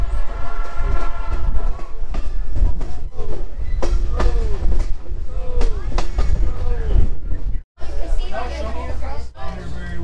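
Passenger train on a scenic railway in Blue Ridge, Georgia, rumbling and clattering close by with squealing wheels and a horn, while people chatter nearby throughout.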